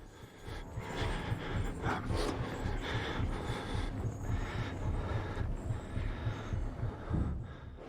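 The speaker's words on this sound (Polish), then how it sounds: "serce zwalnia" In the Outlast horror video game, a heartbeat slows down as a steady series of soft, low, muffled thumps under a faint ambient hum, with no talk.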